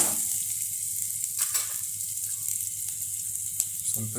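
Poha (avalakki) is stirred in a frying pan with a steady sizzle and soft scraping strokes, close and continuous, with a few louder clinks of the spoon against the pan.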